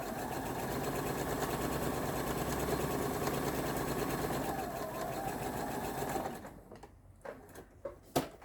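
A sewing machine runs steadily for about six seconds while stitching a kite quilt block seam, its loud continuous whir then stopping, leaving a few faint clicks and handling noises.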